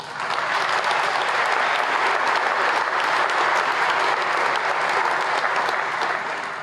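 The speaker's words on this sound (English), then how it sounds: "Let's give them another round of applause." Sustained, even applause from an audience at a fire and EMS swearing-in ceremony, a dense wash of clapping that holds steady from start to finish with no talk over it.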